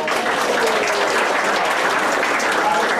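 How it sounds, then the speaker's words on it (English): Audience applause at a Democratic candidates forum in central and western Massachusetts, a steady, dense wash of clapping from the room that stays at an even level throughout. "Let's give a round of applause to Ann Go."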